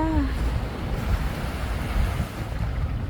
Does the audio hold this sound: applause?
no